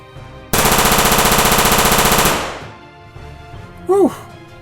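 A voice imitates M249 SAW machine gun fire in a loud, rapid rattling burst lasting nearly two seconds, fading off, followed by a brief vocal exclamation.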